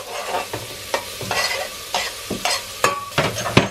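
Peppers and chopped garlic cook in a pan with a steady sizzle, broken by a series of utensil stirring scrapes and clinks at close range, with no talking.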